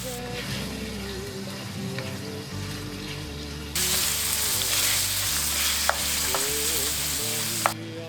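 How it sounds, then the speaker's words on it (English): Ground pork for mapo tofu frying in hot oil, a loud, continuous sizzle that swells partway through, with a couple of sharp clinks as the meat is broken up and stirred. "Quickly add in the ground pork and cook it by breaking it up until it is nice and brown."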